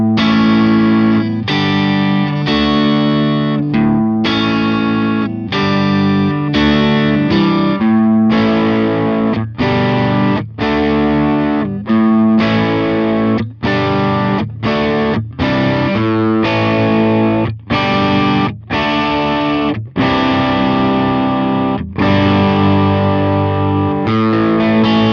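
An electric guitar played through a Stratocaster neck pickup with distortion strikes a series of rhythmic chords and notes with short gaps between them. The tone is loud, close and sustained, with no voices.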